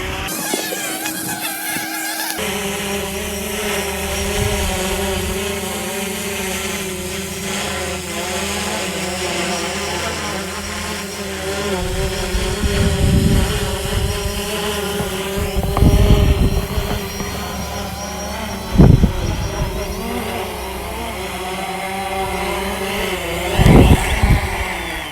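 A FIMI X8 SE quadcopter drone descends onto a GPS position and touches down, its steady whirring rotor buzz running loud and close throughout, with a few brief louder bursts near the end as it settles.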